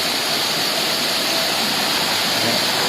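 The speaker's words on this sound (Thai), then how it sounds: "น้ำตกจำลอง" An artificial waterfall at a restaurant pours in a steady, loud, continuous rush of falling water with no breaks.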